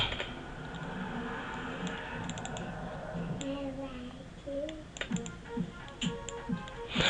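Typing on a computer keyboard with a faulty key, a close run of light key clicks and taps building toward the end, with a voice speaking intermittently over it.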